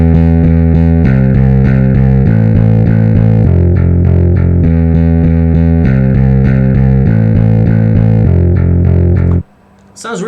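Bass guitar through tube distortion with drive and tone cranked for a crunchy tone, playing a steady heavy riff from a Doom Eternal menu theme for about nine seconds, loud and alone, then cutting off abruptly.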